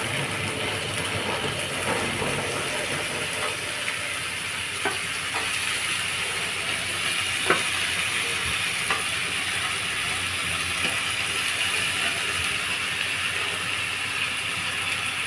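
Goat eyes sizzle and fry in a pan for goat eye gravy, a steady close hiss with scattered crackles and the occasional scrape of a stirring spoon, no voices.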